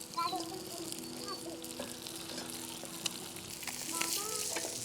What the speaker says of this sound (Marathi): तर वरची साईड पण चांगली भाजून घेते तळून